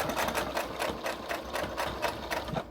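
A sewing machine stitching through several layers of fabric for reusable sponges and unpaper towels, set to a 3.0 stitch length, its needle thumping in a fast even rhythm close up with no talk.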